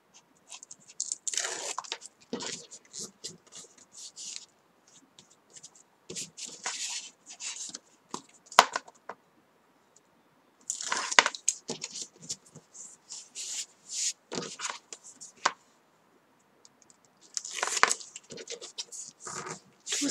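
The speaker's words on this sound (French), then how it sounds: "Et là, je vais venir rabattre mon papier comme ceci." Paper folded over on each of its four sides while assembling a handmade Advent calendar, heard as close, intermittent crinkling and rubbing bursts separated by short silences.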